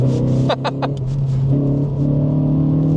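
Renault Clio RS200 engine droning at high revs, around 5,500 rpm, on twisty UK B roads, a loud steady hum from inside the cabin, with a few brief sharp knocks early on.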